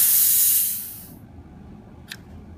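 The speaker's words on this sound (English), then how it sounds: "I'm going to let out all the excess gas and you'll hear it" Excess gas hissing out of a disconnected machine inlet line: a loud, bright rush of air that tapers off within about a second, followed by a brief faint click.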